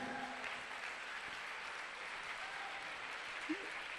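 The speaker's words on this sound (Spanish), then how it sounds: "si van a aplaudir, démosle el aplauso al Señor." A church congregation claps together in a steady, even wash of applause that holds at low volume throughout and sounds somewhat distant.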